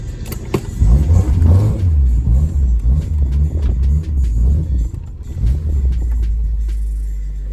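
A 1993 Honda del Sol's B18C1 engine revs with a deep, loud rumble, rising and falling in surges before settling into a steady lower drone that fades slightly at the end.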